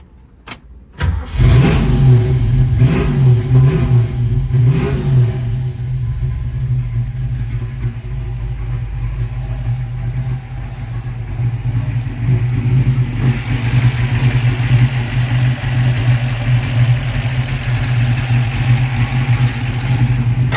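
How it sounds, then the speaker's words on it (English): A 1965 Ford Mustang GT350 tribute cranks and fires up, revs a few times, then settles into a loud steady engine drone as it pulls away and drives, heard close and without talk. "So let's crank her, take her for a drive."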